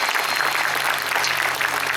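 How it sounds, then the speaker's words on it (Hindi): A church congregation claps together during a worship service, a dense and steady wash of applause that holds at an even level from start to finish with no voices over it. "क्या अद्भुत गवाही के लिए आप खुदा की महिमा के लिए ताली नहीं बजा सकते?"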